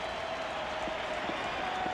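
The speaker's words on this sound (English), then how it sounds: "And a round of applause for the Tennessee defense." Steady stadium applause from the home crowd at a 1988 college football game, LSU at Tennessee in Knoxville, cheering the defense: a dense, continuous wash of clapping and crowd roar that holds evenly throughout with no talk over it.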